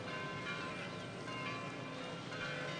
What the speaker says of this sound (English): You hear those bells? I always loved the sound of those bells.